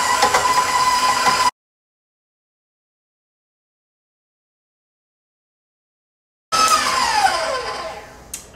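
Electric mixer whisking softened unsalted butter in a bowl for chocolate cupcakes, a loud whirring burst that cuts off into silence, then restarts and winds down with a falling whine.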